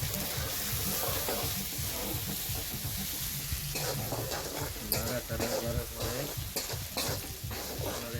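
Chicken with ground garlic sizzles in a pan while being stirred, a close, busy crackle broken by repeated scraping strokes and small clatters of the utensil.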